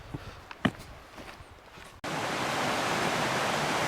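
Great Brook, a small stream on a woodland trail, rushes in a steady broadband wash that begins abruptly and continues evenly, preceded by a few footsteps and faint rustles.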